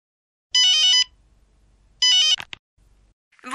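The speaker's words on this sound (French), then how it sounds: "Au téléphone." A telephone rings twice in short electronic warbling bursts about a second and a half apart, each fairly loud against a quiet low hum, followed by a couple of soft clicks.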